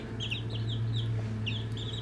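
Close by, a hen makes soft, repeated clucks and short chirpy calls over a steady low background hum, with no one speaking.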